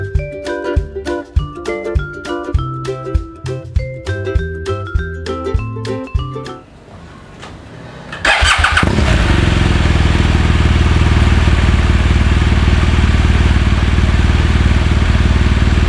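A BMW R1200GSA motorcycle's boxer engine revving, loud and close, a steady roaring drone after a short stretch of music.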